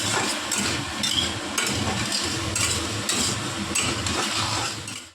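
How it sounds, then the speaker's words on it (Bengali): Potatoes, pointed gourd and small rohu-type fish in a thin curry masala being stir-fried in a pan, a steady dense sizzle with scraping stirs and utensil clinks running throughout, close and continuous. "এবার একটু এটাকে ভালো করে একটুখানি কষে নিতে হবে"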